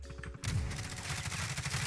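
Rapid video game gunfire breaks out after a brief quieter moment, a loud sustained burst of overlapping automatic shots rattling close and continuous to the end.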